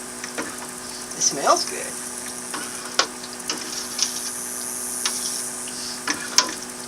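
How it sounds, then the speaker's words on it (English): A spoon stirs homemade apple butter and seasonings in a pot, scraping and knocking softly over a steady low hiss, while a voice briefly speaks. "So let me stir all this in."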